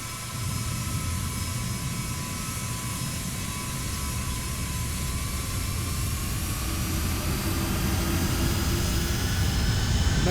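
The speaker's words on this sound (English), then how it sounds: "A 757 on the turn for a landing." Airliner jet engines of a Boeing 757 in X-Plane 11 roar steadily through a landing turn, a dense, continuous rush with a whining tone that swells slightly louder toward the end, with no talk.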